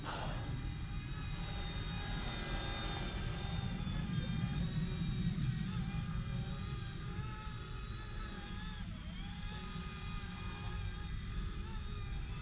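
An Eachine E120 RC helicopter flying, a steady close whirring buzz of small rotors and motor that holds almost constant for the whole stretch, with no talk.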